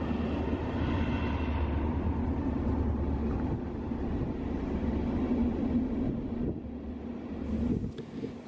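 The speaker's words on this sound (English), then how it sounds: "these are the longest production trains in the world" Long, heavy iron ore train on the Sishen–Saldanha railway, a steady low rumble and rolling drone of wagons passing continuously, with some wind noise on the microphone and no talk.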